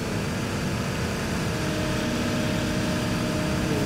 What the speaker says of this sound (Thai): ฟังเสียงปั๊มดิท่านผู้ชม